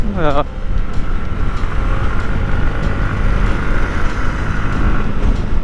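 A Yamaha MT 15 motorcycle with VVA engine revs hard near 7000 RPM at around 90 km/h, a loud continuous engine drone with wind rush throughout.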